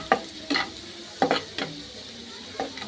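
Noodles fry with egg in a pan, a soft sizzle punctuated by a few sharp scraping stirs spaced out at irregular intervals, close and fairly quiet.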